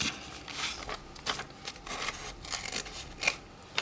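Scissors trim paper for a planner, producing a run of close, crisp snips and rustling cuts, fairly quiet and uneven in rhythm, with no voices.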